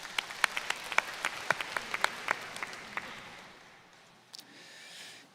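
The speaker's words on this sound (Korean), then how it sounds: "2층에 맞추신 분, 자, 박수 부탁드리겠습니다." Scattered applause from an audience at a church summer conference lecture hall, with distinct individual claps rattling for about three seconds and then tapering into quiet room tone.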